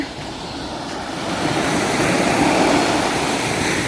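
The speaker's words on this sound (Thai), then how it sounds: "มาดูน้ำทะเลนิดนึง" Stormy sea waves wash onto the beach at Ban Krut, a steady broadband surf wash that swells slightly louder midway, with wind buffeting the microphone and no voices.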